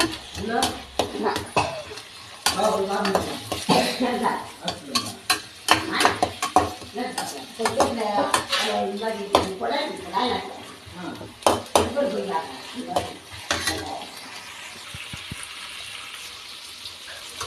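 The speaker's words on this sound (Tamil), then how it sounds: "ப்ரௌனிஷாக ஆகிற வரைக்கும் நல்லா வெங்காயத்தை வதக்கி விட்டுட்டே இருங்க" Onions sauté in a pan for tomato thokku with an oil crackle underneath, while a spoon stirs and scrapes against the metal in repeated close clatters. A voice talks faintly at times.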